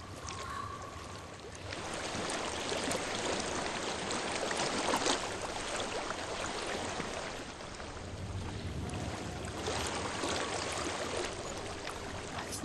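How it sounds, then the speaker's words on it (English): Flowing stream water in the video game Hellblade: Senua's Sacrifice, a steady broad rushing wash that swells slightly in the middle and carries on alone without talk. "I hear water. Go to it."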